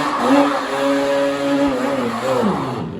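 A Yamaha Banshee ATV two-stroke engine bogs with a carburetor only partly set, giving a steady rough drone with wavering, sagging pitch that dips near the end, loud and close with no talk.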